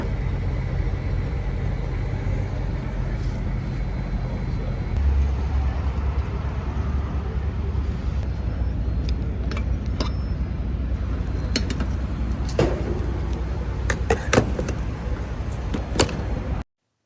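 Car or van driving along with a steady low engine rumble and road noise, a few clunks and door-like knocks toward the end, pulling into a rest stop gas station.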